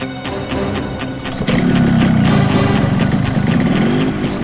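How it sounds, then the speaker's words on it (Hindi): A motorcycle engine is started and settles into a loud, steady idle close by, with a rougher rise partway through and no talking over it. "बाइक स्टार्ट हो गई, जल्दी आओ।"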